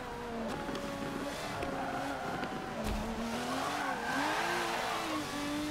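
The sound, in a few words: race car passing from behind in racing video game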